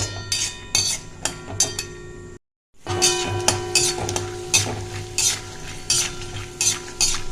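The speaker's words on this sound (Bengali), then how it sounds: "বাদামগুলো আমি ভাজবো একটু ব্রাউন ব্রাউন হবে" Peanuts fry in a pan with a steady hiss and repeated scraping and stirring clatter of a utensil, broken by a brief silence partway through.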